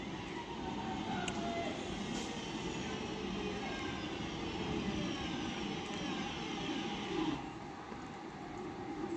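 A Northern class 323 electric train on its way from Stoke-on-Trent to Manchester Piccadilly rolls through Cheadle Hulme station with a steady, close rumble and a whining hiss that holds level for the whole stretch.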